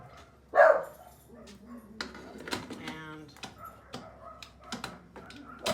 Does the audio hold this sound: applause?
no